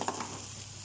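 Onion and mixed vegetables stir-fried for egg fried brown rice, a brief sizzle with a quick utensil scrape at the start, close by and unaccompanied by talk.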